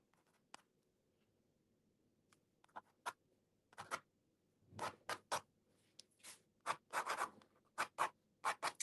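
A pen sketching small lines on paper while detailing a watercolor of cherries, quiet close scratchy strokes in sparse taps at first, then quicker clustered bursts of short hatching.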